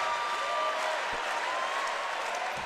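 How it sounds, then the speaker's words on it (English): Loud basketball crowd at a FIBA game in Toronto, USA against Canada, roaring and cheering steadily throughout with broad dense noise, a few whistle-like tones riding over the crowd. "It is a loud flag-waving crowd right now here in Toronto."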